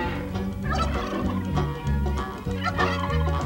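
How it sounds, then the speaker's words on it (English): A flock of turkeys gobbles in busy, overlapping bursts on farmland in old Orange County, blended with an underlying musical tone. "while a flock of turkeys gobbled where Orange County Civic Center now stands"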